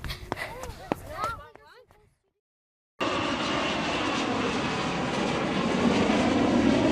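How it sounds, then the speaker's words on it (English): A steady, broad roar from aircraft engines overhead over a home in Pickerington fills the second half, loud and continuous. A voice talks before it, then a brief silence. "The roar of the engines."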